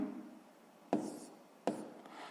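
Pen on paper while writing point coordinates by hand for a sixth-grade maths exercise: soft, faint scratching strokes with two sharper taps, close and quiet, no talk.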